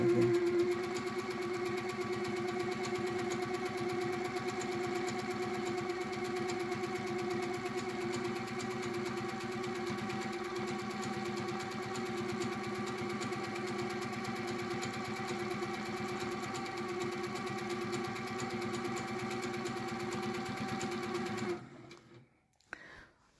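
A sewing machine quilting a pattern along a marked stencil on a quilt border, running as one long steady whirring drone, close and even, then stopping abruptly near the end, with no talk.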